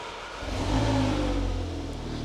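An Audi S3 8V with a custom valved exhaust, valves closed, revs up from idle into a muffled, building mid-range roar that holds steady before easing slightly, close and continuous with no voices.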